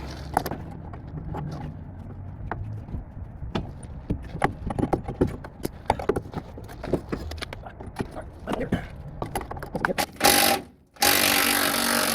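An adjustable crescent wrench works on a control arm bolt under a Dodge Ram D150 van, with close, irregular metallic clicks, taps and clanks, a louder clatter near the end, and no speech.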